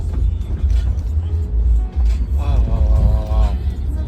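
A self-driving car moves through Chicago with a steady low road rumble and engine drone inside the cabin, while people talk over it.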